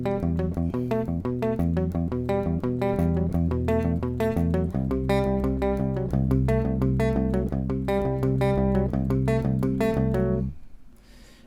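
Steady fingerpicked guitar pattern, rapid evenly spaced notes over ringing bass, repeated throughout before ending and fading.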